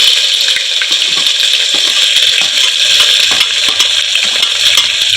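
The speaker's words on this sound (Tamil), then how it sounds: "நல்லா பொரிஞ்சு வந்ததுக்கு அப்புறம் வெங்காயம் போடுறோம்" Onions frying and being sautéed in a pan of hot oil for a South Indian dish, giving a steady loud sizzle with scattered crackles and stirring scrapes throughout.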